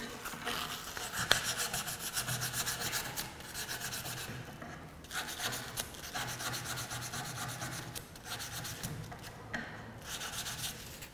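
Small sandpaper rubs a metal jewelry piece in steady back-and-forth rasping strokes, close and continuous, with brief pauses between passes and no talk.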